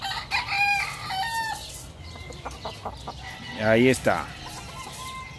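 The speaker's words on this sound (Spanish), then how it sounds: "Es un gallo que cambió de pluma." A rooster that has changed its feathers, kept as a breeding cock, crows once loudly and close by after a few clucks, with someone talking briefly and farmyard noise around it.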